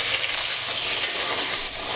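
Potatoes frying in a pan as chopped tomatoes go in, a dense, loud, continuous sizzle and crackle close up, with no voices.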